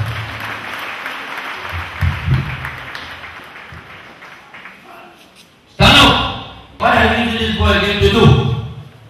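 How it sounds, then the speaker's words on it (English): A church congregation at a Cameroonian prophet's service breaks into a sudden loud burst of clapping and cheering after quieter murmuring and scattered knocks, the clapping cutting off briefly and then resuming strongly. "Clap for Jesus Christ."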